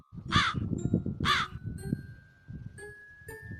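Two loud, harsh crow caws close by, followed by fainter calls and a thin high tinkling tone in the background.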